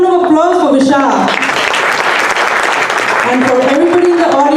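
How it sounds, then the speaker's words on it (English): Sustained audience applause at a fundraising event for fire victims, loud and continuous throughout, with a voice heard over the clapping at the start and end. "A huge round of applause for Vishal."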